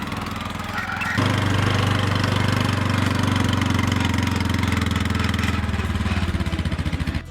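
A quad bike engine starts up and then runs loud and close with a steady, chugging rumble that holds evenly to the end.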